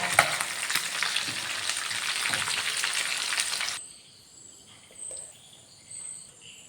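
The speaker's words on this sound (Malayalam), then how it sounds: "ഈ സൈഡും കൂടി ഒന്ന് 10 മിനിറ്റ് ഫ്രൈ ചെയ്തെടുക്കാം." Loud, dense sizzling of chicken pieces frying in oil, close by, that cuts off abruptly partway, leaving quiet background with a faint high insect-like whine.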